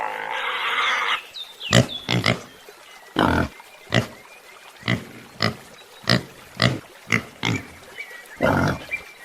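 A pig grunts and oinks repeatedly at close range in short, uneven bursts, some of them rough and snorting, with brief pauses in between.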